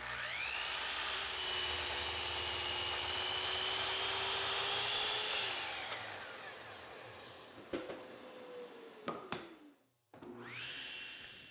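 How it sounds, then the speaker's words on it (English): Power saw crosscutting wooden boards to length for a coffee table, a loud whining motor spinning up with a steady cutting drone, then winding down, a few clunks of handled boards, and the saw starting again. "I'll crosscut the boards to length a little heavy"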